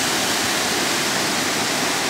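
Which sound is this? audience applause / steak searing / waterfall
waterfall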